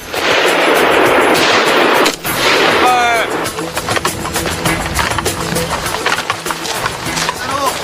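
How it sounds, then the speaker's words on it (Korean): Military shooting practice at a training range produces sharp, loud gunshot reports, first as heavy bursts and then as a rapid series of repeated cracks. A voice speaks over the firing throughout. "사격 능력은 군인으로서 갖춰야 할 기본이기 때문에 대외 홍보 지원 임무 수행 중에도 사격 연습을 게을리하지 않았습니다"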